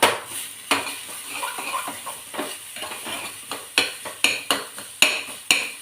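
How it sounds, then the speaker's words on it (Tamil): Tomatoes sizzle as they sauté in a pan while a utensil scrapes and taps against the metal in repeated strokes, close and fairly loud. "இது கொஞ்சம் நல்லா வதங்கட்டும்"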